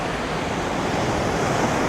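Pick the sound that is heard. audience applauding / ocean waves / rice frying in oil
ocean waves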